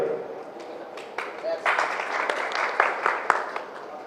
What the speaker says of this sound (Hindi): तालियां सर।